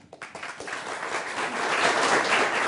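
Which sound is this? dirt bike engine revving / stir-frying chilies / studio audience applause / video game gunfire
studio audience applause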